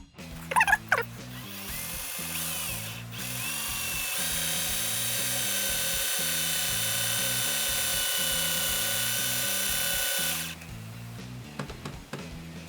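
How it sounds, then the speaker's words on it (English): A cheap power drill bores through a pencil, its motor whirring and grinding in a steady, rhythmically pulsing drone for about nine seconds before cutting off, with brief clatter before and after. "take my cheapo drill and let's get to work"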